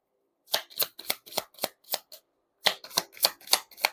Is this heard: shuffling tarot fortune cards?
yes